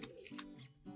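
Scissors snip paper for children's crafts at a birthday party, a few quick, soft close-up cuts in a short burst, with no talking.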